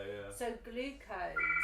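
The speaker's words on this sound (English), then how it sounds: "excuse the phone" A phone rings briefly, its ring a thin high tone heard mostly beneath a person talking about sugars and carbohydrates during a health discussion.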